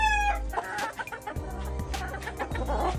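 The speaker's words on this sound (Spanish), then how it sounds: "Ahí viene el gallo del video." Chickens cluck and squawk close by in short, uneven bursts, with a rooster among them and a low rumble underneath.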